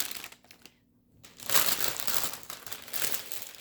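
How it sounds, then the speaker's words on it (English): Plastic wrap around planner discs crinkles in loud, close bursts after a quiet pause, with a sustained stretch of rustling and crushing and a final flurry near the end, with no talk. "Sorry about the crinkling. I should have taken it out of the plastic wrap."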